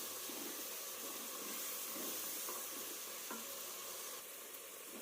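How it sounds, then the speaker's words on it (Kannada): Ground spice paste fries in a pan for spinach (palak) pulao, giving a soft, steady sizzle and hiss with occasional stirring scrapes, fairly quiet and continuous, with no voices. "ಇದು ಅಷ್ಟೇ ಸ್ವಲ್ಪ ಚೆನ್ನಾಗಿ ಫ್ರೈ ಆಗಬೇಕು"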